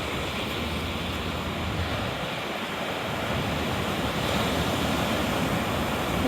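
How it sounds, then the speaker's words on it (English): Loud sea waves surging onto the Torquay seafront at high tide on a windy, rainy day, a broad continuous wash of surf that swells slightly louder toward the end, with no talk. "I think it's the waves that are loud today, not the wind, it's the waves."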